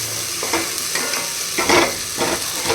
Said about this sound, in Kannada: ಒಂದು ಕಡಾಯಿಗೆ ಎಣ್ಣೆ ಹಾಕ್ಕೊಂಡು ಶುಂಠಿ ಬೆಳ್ಳುಳ್ಳಿ ಪೇಸ್ಟು ಎಣ್ಣೆಗೆ ಫಸ್ಟ್ ಹಾಕ್ಕೊಂಡು ಫ್ರೈ ಮಾಡ್ಕೋಬೇಕು